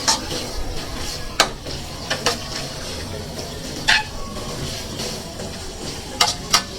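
Pork sizzles steadily in a hot pan, with sharp scraping clinks of a spatula stirring at irregular intervals over the continuous frying hiss.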